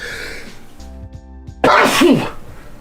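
A single loud, sharp sneeze bursts out after a brief lull, with a short gasping intake leading into it.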